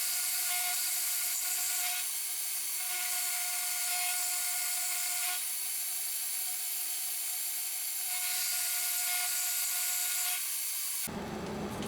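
A milling machine cuts a slot for a rotary table handle, making a steady, high-pitched whine with a constant tone. The cutting noise swells and eases slightly and then stops near the end, with no voices.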